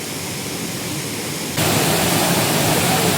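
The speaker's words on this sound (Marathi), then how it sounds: "पायामागे पाहू शकता तुम्ही जो धबधबा आहे अतिशय सुंदर आणि एक नंबर धबधबा आहे" A hidden forest waterfall pours in a steady, unbroken rush of white water that suddenly swells louder about halfway through, with no voices over it.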